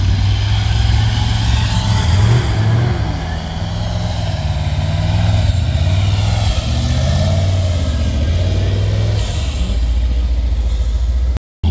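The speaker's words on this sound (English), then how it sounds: "It's the engine exhaust." Exhaust of an Argo Centaur tracked vehicle's engine on a snowy mountain, a loud, steady low rumble close by, with slight pitch shifts as the load changes and a sudden stop at the end.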